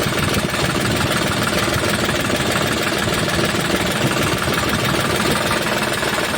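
A New Holland 3630 tractor engine idles steadily and continuously up close, a dense, even rumble with no voices over it.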